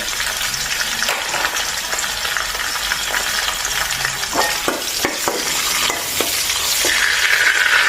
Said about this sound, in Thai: อ่ามะเขือเทศนะคะ ใส่ลงไปเลย